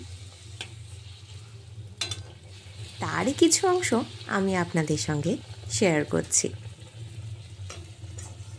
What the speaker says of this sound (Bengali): আর এখন রান্নাঘরে ভাজা হচ্ছে ফুলকো ফুলকো লুচি